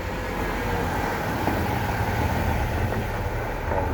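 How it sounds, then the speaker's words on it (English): A car approaching on an old-town street in southern Italy brings a steady, moderately loud engine rumble with idling-like low drone and road noise, no voices heard. "a car is coming"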